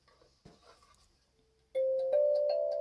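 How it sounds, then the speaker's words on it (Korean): A kalimba's number-5 key, a former dead spot fixed by shifting a sponge beneath it, rings out in one clear tone that sustains evenly for over a second after quieter handling noises. "데드스팟이었던 5점 키의 울림이 확실히 이어졌죠?"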